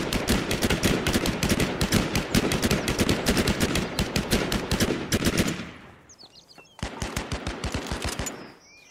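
Automatic gunfire in the shooter game Last Man Standing rattles in long rapid bursts, loud and close, pausing briefly before another burst, with no talk over it.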